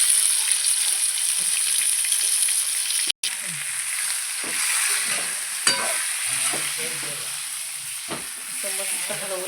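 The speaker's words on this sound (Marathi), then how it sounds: "मस्त हलवून घ्यायचं वांग" Eggplant frying in oil while being stirred for a stuffed eggplant dish: a steady bright sizzle throughout, broken by scraping and clinking strokes of the spoon in the pan, with no talk.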